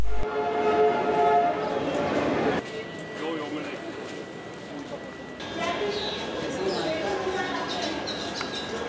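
A train in India, bound for Ajmer, rumbles past with a steady mechanical roar and a sustained horn-like tone, the sound shifting in character partway through.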